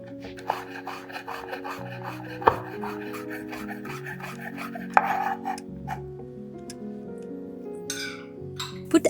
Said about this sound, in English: Grate the fresh Parmesan and Pecorino, then cut the prosciutto in little pieces.